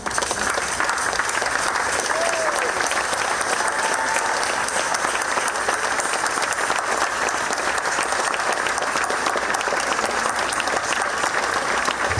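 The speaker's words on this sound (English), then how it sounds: "let's give us a big round of applause" Sustained, loud, even applause from a large crowd at an award ceremony, with a dense, continuous wash of clapping lasting throughout and no pause.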